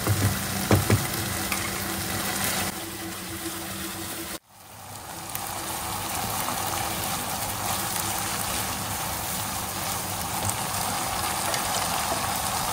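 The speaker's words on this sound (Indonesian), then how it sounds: "ini kita tumis sampai agak kering dulu ya" Oncom mixture stir-fried in a pan, a steady close sizzle with scraping, briefly cut off in a sudden drop before the frying noise resumes and continues evenly.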